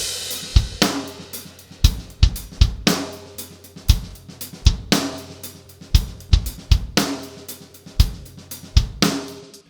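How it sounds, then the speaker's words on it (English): A drum kit is played with punchy, loud snare hits and softer ghost notes between them. The beat is steady and close, with clear peaks and quieter strokes filling the gaps. "We got like really punchy main snare hits, but we also got a lot of ghost notes in between."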